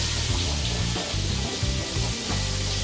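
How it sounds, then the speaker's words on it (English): Continuous loud sizzling of apples frying in hot oil, a steady hiss with some low bubbling and shifting underneath. "Good sizzle. Now we're going to throw our apples in."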